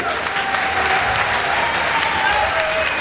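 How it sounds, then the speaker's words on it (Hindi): An audience applauds at a Hindi poetry recital (kavi sammelan) in Hathras, a loud, continuous roar of clapping with voices calling out over it. "एक बार तालियां लगना चाहिए"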